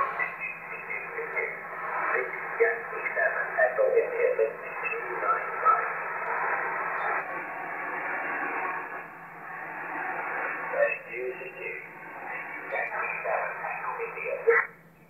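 Amateur radio signal received on a Yaesu FT DX 10 transceiver, a band-limited voice transmission in a steady hiss of static, with the speech sounding thin and distant.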